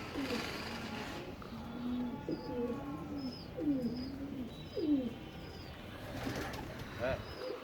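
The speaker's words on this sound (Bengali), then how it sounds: "হ্যাঁ এটা নর কবুতর।" A male pigeon coos in repeated low rolling phrases, close and fairly soft, with faint chirps of other birds and a brief rustle of wings in the background.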